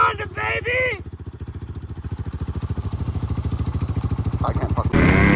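A mint 1986 Honda Big Red three-wheeler's engine idles close up with a fast, even putter and rhythmic pulses, after an excited voice at the start and before a louder burst at the end.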